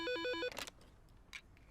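A telephone rings with a rapid, regular warbling electronic tone, loud and alone for about half a second, then cuts off, followed by faint rustles and shuffling.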